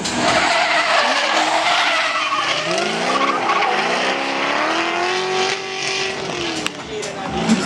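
A car drifting in a drift competition sends out a long, loud tire squeal that rises and bends in pitch over engine roar, with a commentator's voice talking over it.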